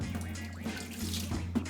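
Tap water runs steadily into a sink as salted edamame pods are rinsed, a close, splashing wash with faint drips and a low hum in the background.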